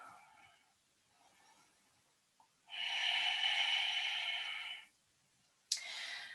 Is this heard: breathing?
yes